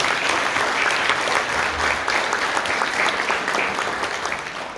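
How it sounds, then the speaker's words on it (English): An audience gives a warm round of applause for young music performers, dense steady clapping throughout that fades a little toward the end. "let's give these young people a big round of applause."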